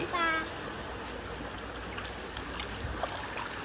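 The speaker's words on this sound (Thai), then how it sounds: "มีน้ำไหลน้ำไหล" Water flows in a soft, steady trickle at a family cafe, a quiet continuous wash with a faint voice briefly heard near the start.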